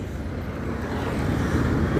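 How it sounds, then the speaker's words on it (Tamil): Heavy road traffic at the Porur toll plaza during a long holiday weekend, with buses queued: a dense, continuous roar of engines and tyres, loud and steady, slowly swelling across the short stretch. "எவ்வளோ டிராஃபிக் இருக்குது பாருங்கள்."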